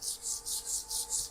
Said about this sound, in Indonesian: Tapi yang lepas kita hilangkan ya menggunakan amplas seperti ini ya.